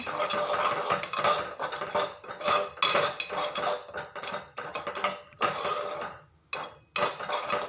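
Semolina (rava) roasting in a pan while a spoon stirs it, giving continuous close scraping and clinking strokes in an uneven rhythm, with no voices.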